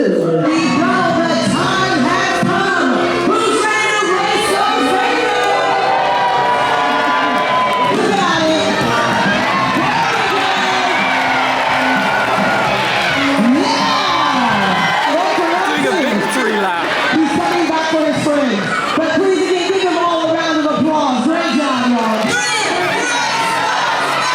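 Onboard a Disney cruise ship, a big deck crowd cheers on babies in a crawling race, with loud shouts, children's cries and whoops in a sustained, energetic roar.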